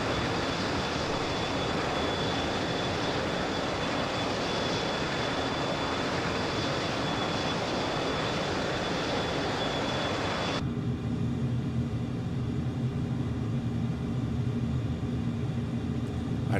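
A warbird aircraft engine in Microsoft Flight, climbing fast at full throttle: a steady, dense engine roar that holds constant, then abruptly shifts to a lower, muffled rumble near the end, with no voices.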